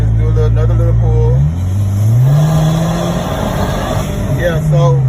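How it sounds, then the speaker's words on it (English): Audi car accelerating hard in a speed test, engine pitch climbing through gears with clear shift drops, loud and close inside the cabin while someone talks over it. "so I'm doing another speed test"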